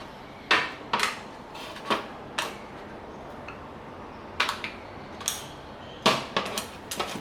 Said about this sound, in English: Remove the tarts from the tart tins while they are still warm.